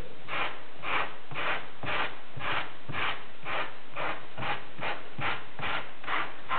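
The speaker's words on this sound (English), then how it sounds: "some of them come up lighter when you rub them with a sander" Model viaduct bricks being sanded, heard as a steady run of about fourteen even, rhythmic rasping rub strokes, close and fairly loud, with no talk.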